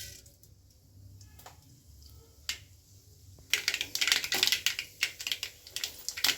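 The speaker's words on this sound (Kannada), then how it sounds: "ಈಗ ಇದಕ್ಕೆ ಸ್ವಲ್ಪ ಸಾಸಿವೆ ಹಾಕೊಳ್ಳೋಣ." Mustard seeds spluttering in hot oil for a tempering, quiet at first and then breaking into a rapid burst of sharp pops and crackles.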